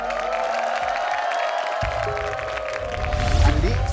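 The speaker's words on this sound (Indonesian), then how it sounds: "Kita boleh berikan tepuk tangan dulu yuk" Studio audience on an Indonesian dating game show breaking into steady clapping and cheering, a dense continuous wash of applause that grows slightly louder toward the end.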